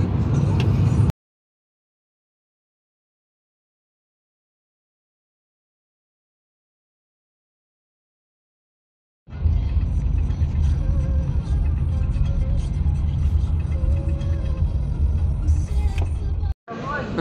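A car drives on the road to the airport in poor weather, its low interior rumble steady before and after a long silent gap, with a voice talking over it.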